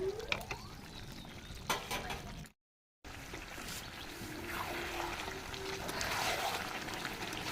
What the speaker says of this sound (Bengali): লাল লাল দেশি মাংসের ঝোল হবে এটা। এখনো কষানো চলছে।